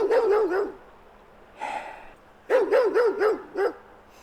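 A puppy barks nearby in quick yappy bursts, first a run of four or five sharp yips, a short whine-like sound, then another rapid series of yips, loud and close with no talk.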